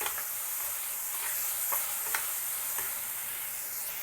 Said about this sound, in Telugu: ఇప్పుడు ఇందులో మనము రాజ్మా వేసేసుకోవాలి.